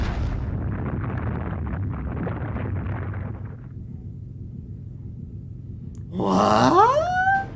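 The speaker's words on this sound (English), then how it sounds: "Why is the Fusang tree splitting apart?" A giant Fusang tree splits apart in the Fate/Grand Order video game with a long, deep, rumbling crack and groan, then a sudden gliding, wailing cry near the end.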